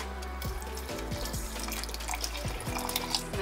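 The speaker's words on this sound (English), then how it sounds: "just add 8 ounces of water" Water pours from a container into a blender jar holding a can of chickpeas for a vegan meal prep, a steady close liquid stream with gurgling and splashing throughout, no talk.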